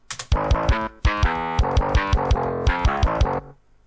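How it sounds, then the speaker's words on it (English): A heavy, distorted guitar chugs a tight, syncopated riff, with punchy kick drum hits locked to each accent; loud and alone. "we're playing this exact same rhythm with the kick drum"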